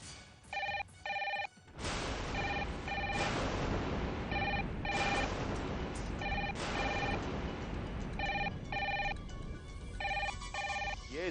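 A telephone rings in repeated bursts of a bright electronic trill, loud and close, over a busy background of dramatic music and noise, with no one speaking.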